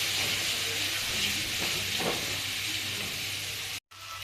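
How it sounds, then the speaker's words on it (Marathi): Masala with turmeric and black masala roasting in a pan for a spicy white bean curry, a steady close sizzle and hiss with faint stirring scrapes, ending in a brief cut. "सगळा मसाला असा भाजला पाहिजे, गोळा झाला पाहिजे, तेव्हा ते मसाला शिजेल"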